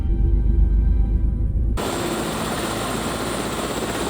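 An AS350 Écureuil helicopter's engine winds up as it accelerates, first a loud low rumble, then an abrupt shift to a dense, steady high-pitched whine and rotor roar close by, with no talking.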